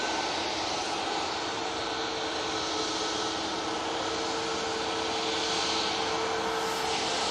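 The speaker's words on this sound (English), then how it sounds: "Next on, we have the TUI off to Dubrovnik with a 737 MAX 8." A TUI Boeing 737 MAX 8 departing Manchester Airport for Dubrovnik produces a sustained, wide jet roar with a faint tonal hum, steady and somewhat distant, with no voices.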